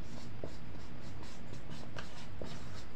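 A pen scratches across paper in a maths lesson, making quiet, steady strokes with small taps and pauses between words, close and alone.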